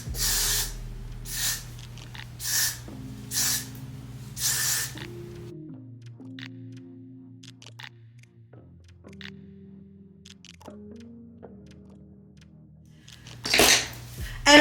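Hair spray on a deep wave wig: five short, loud hissing bursts in a steady rhythm, then quiet background music, then a few more spray bursts near the end.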